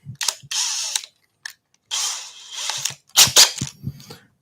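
An electric drill bores holes upright into a wooden workshop sign, several short whirring bursts of about half a second to a second each, close and fairly loud, with brief gaps and a couple of clicks between.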